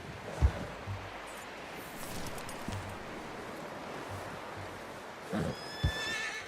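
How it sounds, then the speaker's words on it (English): A horse in the video game Red Dead Redemption 2 whinnies twice, short bright calls over a soft ambient wash with a few dull thumps, fairly quiet overall. "You should really tether that horse, Arthur."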